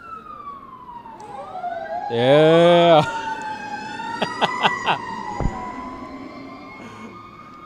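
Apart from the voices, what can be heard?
emergency vehicle siren passing on street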